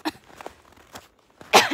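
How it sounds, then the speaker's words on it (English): Person coughing outdoors in cold air on a mountain ridge hike near Lake Tahoe, a few short soft coughs and breaths followed by one louder harsh cough at the end, close and alone. "I'm coughing because it was cold."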